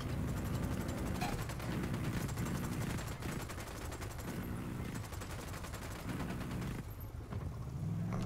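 Gunfire in the video game Ghost Recon, a dense fusillade of rapid machine-gun bursts and shots rattling continuously at a moderate distance.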